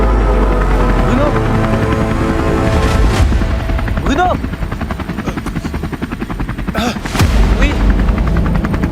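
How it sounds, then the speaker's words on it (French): A helicopter arrives over a remote island in a short film, its loud rotor thumping throughout and drawing closer, with people shouting briefly over the roar. "Ah, c'est l'hélico? Ouais, c'est l'hélico, viens."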